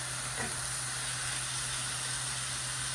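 Chicken pieces fry in a pan for chicken Alfredo, a steady close sizzle and hiss with a faint constant hum underneath and no talk.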